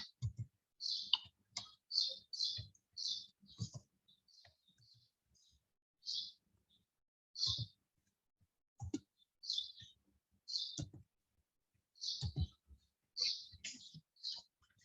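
Sharp, dry computer mouse clicks come in quick bursts and singles, close up, while working in statistics software on a Kruskal-Wallis non-parametric test, with quiet gaps between the groups.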